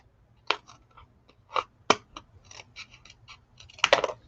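Scissors snipping through layered paper during mixed media crafting, a handful of sharp, separate cuts close to the mic in an uneven rhythm against a quiet room.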